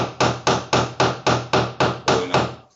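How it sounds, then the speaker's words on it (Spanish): Steady hammering from a neighbour's place, nine evenly spaced loud blows about a quarter second apart, each ringing briefly before the next strike, with no voices. "lo voy a tener que ir a tocar timbre a mi vecino si sigue martillando"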